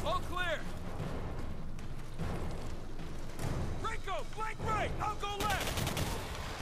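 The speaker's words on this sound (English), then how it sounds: "pull a shotgun out!" Gunfire in the shooter game Singularity, with several heavy blasts and sharp whooshing effects over game noise, while a player talks over it.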